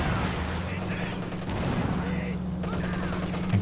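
Machine gun and anti-tank gun fire in the video game Company of Heroes 2, a dense continuous rattle of shots and booms over a low rumble, with someone talking throughout.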